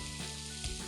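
Ketchup sautéing in a pan beside other ingredients, a brief, steady close sizzle with a faint low hum beneath and a slight swell near the end.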